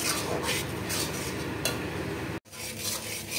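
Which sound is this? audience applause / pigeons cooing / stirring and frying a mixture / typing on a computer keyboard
stirring and frying a mixture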